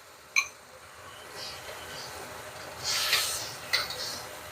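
Sauce poured into a hot pan of rice hisses and steams in one short, quiet burst of sizzle, with faint kitchen clatter before and after.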